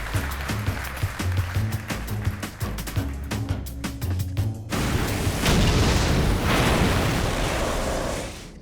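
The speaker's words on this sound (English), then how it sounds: "That tower has been absolutely beautifully designed, and now we're gonna see it destroyed." A large miniature model tower is blown apart for a film effect, a loud sustained roaring burst of debris and blast rumble that swells and holds for several seconds after a stretch of rhythmic thumping.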